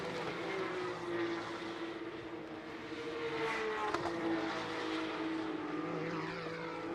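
Porsche Carrera Cup race cars at Donington Park, engines droning loudly and steadily as the pack passes, pitch rising and falling across several cars with no talk over it.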